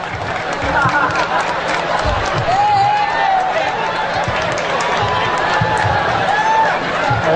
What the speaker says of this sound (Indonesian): Tepuk tangan dulu buat Anang Rusliansa SH.